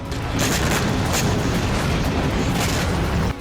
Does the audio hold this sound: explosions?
yes